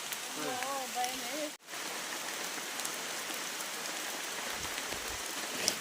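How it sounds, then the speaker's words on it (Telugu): Rain falling on a hillside, a dense continuous patter and hiss close around, with a brief spoken voice at the start before a short dropout, then steady rain alone. "వర్షం పడుతుంది దారంతో బురద అయిపోయింది"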